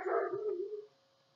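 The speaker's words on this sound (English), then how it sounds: "Actually, let me try to get my dogs to calm down." A dog gives a single drawn-out howling whine, near and fairly clear, sliding downward and fading out after under a second, with no talk over it.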